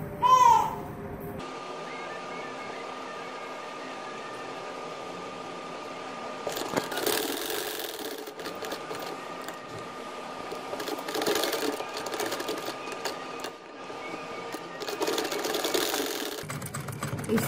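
A sewing machine stitches in a zip at the back of a kameez, running in a steady close mechanical whir for most of the stretch after a brief clatter at the start.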